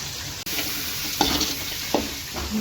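Onion and tomato sauté in a home kitchen pan, a steady close sizzle broken by a few scraping stirs of the spoon, with no voices.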